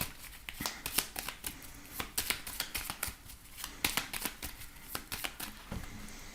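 A deck of tarot cards is shuffled and cut by hand, quick crisp riffles and flicks in an uneven rhythm, close and fairly soft.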